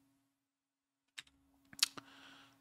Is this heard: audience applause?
no